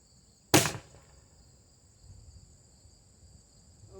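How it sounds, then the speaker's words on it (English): Umarex T4E HDS double barrel pistol firing its left barrel: a single sharp, loud, close shot with a quick decay, set against a steady background of chirping crickets. "We're going to shoot the left barrel first and then the right."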